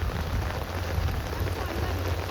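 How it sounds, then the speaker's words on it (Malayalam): Heavy rain pours in a steady, even hiss that fills the whole moment, fairly close and continuous, with no talking over it. "നല്ല മഴയാണ്."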